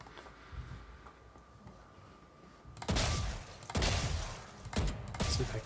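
Gunfire in the video game Valorant as robot targets are shot: quiet stretch with a faint hum, then three sharp, loud bursts of rapid shots about a second apart.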